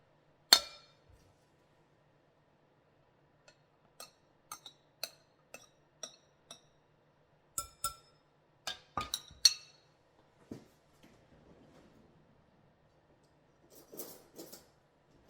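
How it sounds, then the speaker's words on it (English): A fork works diced butter into a cup of flour in a bowl for Southern chicken and dumplings, giving sparse, close clinks and taps against the bowl in irregular clusters, with quiet gaps between them. "I will be using my fork, and we're gonna blend this butter in, press this butter into this flour."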